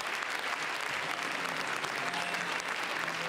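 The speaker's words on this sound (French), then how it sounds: "Toute l'équipe du film applaudit" Sustained applause from the film crew and audience at the Cannes Film Festival just before a screening, a dense steady clatter of many hands clapping with no break and no speech over it.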